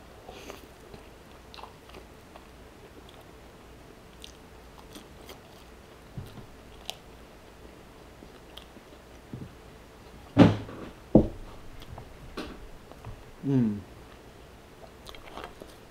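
Someone eats a deep-fried chicken chimichanga up close, giving a few sharp crunchy bites and soft chewing against a quiet background, with faint scattered clicks between bites.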